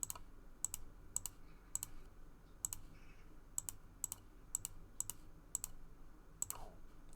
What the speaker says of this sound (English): I'm going to type in exactly what we're doing